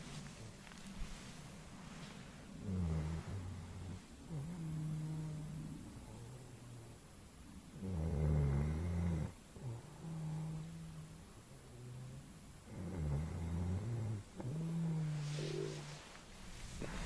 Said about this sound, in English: See if we can catch him snoring.